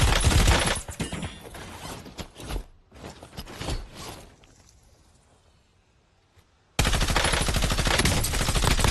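Warzone weapon reload amid gunfire: loud bursts of shots, then a fade to near quiet with faint mechanical clicks of a magazine change, before heavy firing resumes abruptly.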